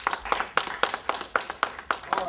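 A small audience claps for kids at a coin collecting event. The claps come as a sparse, evenly spaced series of sharp, close hand-claps, several per second, with a faint voice between them.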